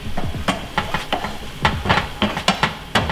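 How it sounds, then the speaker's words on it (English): Repeated scraping and clinking of a utensil stirring bison and chicken in a pan, with a steady sizzle underneath, close and fairly loud. "So now we're gonna stir around the meat."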